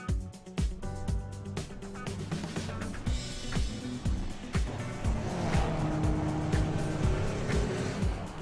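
A car doing a burnout at the Santa Pod drag strip, with a loud, continuous engine roar and screeching tire squeal that build steadily over several seconds, close and dense with no clear talk.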